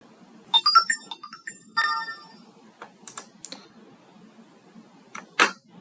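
An Android phone gives a short electronic SMS notification tone, a quick run of chiming beeps followed by a few sharp clicks and taps, heard close and clear with no talking.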